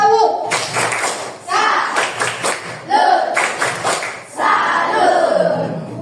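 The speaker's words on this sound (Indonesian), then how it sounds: "Oke, coba tepuk salut." Elementary school children perform the 'tepuk salut' clapping chant together, a loud, close burst of rhythmic group claps mixed with shouted voices, rising and falling in several phrases.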